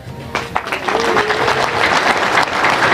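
A crowd claps during a field marshal's speech, starting with scattered claps that swell into sustained, loud, dense applause filling the hall.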